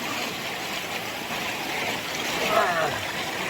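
Creek water runs with a steady, close rushing wash, and a short splash near the end as an old hat is dipped into the cool stream.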